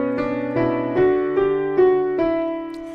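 Piano playing a stepwise bridge melody: six clear chords struck at an even, unhurried pace, each ringing and sustaining into the next, heard alone and close.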